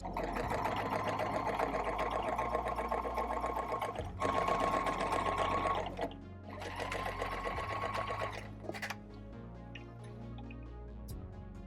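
A sewing machine stitching a pair of shorts runs in close, loud bursts, stops briefly, starts again and then falls quiet in the last few seconds.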